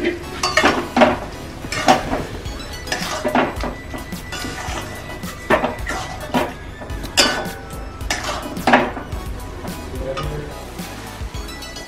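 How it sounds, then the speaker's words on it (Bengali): Potatoes frying with spices and salt in a pan for a Bengali rohu fish curry, with repeated scraping and clinking of a spatula against the pan over a low, steady sizzle, close and moderately loud. "তারপরে দিয়ে দিচ্ছি আলুটা দিয়ে মশলাটার সঙ্গে একটু ভাজা হবে"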